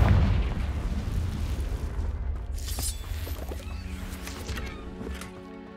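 A Confringo blasting curse in Hogwarts Legacy explodes with a deep, loud boom that rumbles and slowly fades, followed by crackling debris and faint ringing tones.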